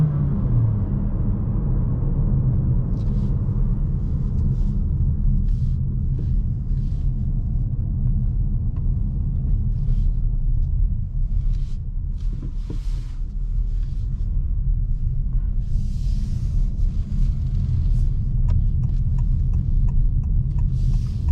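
Petrol engine of a 2022 Honda HR-V 1.5 e:HEV hybrid heard from inside the cabin: a steady low rumble and drone, with road noise and faint ticks on top.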